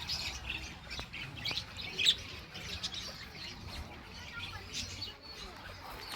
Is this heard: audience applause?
no